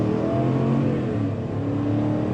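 A 2021 Chevrolet Tahoe Z71 with the 5.3 V8 accelerates hard from a standstill, its engine droning steadily and loudly as it climbs through the revs, heard from inside the cabin with no talking.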